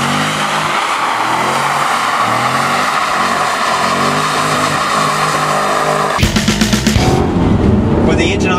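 A 285-kilowatt BY2 Series R8 car accelerates hard on a racetrack, its engine roaring loud and steady throughout, then rising into sharp revving bursts near the end.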